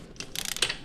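A ratchet clicks in a quick run of short, close ticks while tightening the top shock bolt on a KTM race bike's swingarm linkage.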